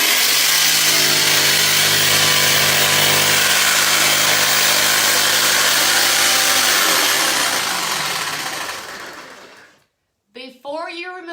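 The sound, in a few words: jigsaw cutting through wood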